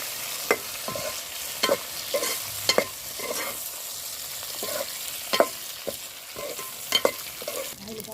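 Stuffed whole eggplants fry in a pan while a spoon stirs them, giving soft sizzling under a series of distinct scraping clacks at irregular intervals, close and moderately loud.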